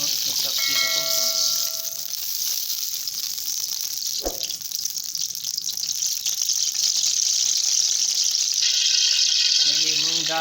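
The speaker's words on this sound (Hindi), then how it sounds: "इसमें मैं एक पाव घी पहले शामिल कर रहा हूँ।" A quarter measure of ghee heats in a kadhai, giving a soft continuous sizzle with a brief sharp clink midway and a hiss that lasts throughout.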